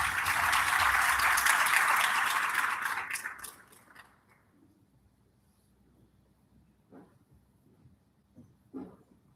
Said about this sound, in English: Please give our panel a wonderful round of applause.